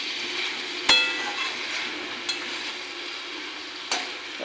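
Winter vegetables with fish vadi and ghee being stirred in a pan give a soft continuous sizzle, broken by three sharp spatula scrapes and clinks spaced about a second and a half apart; no voices.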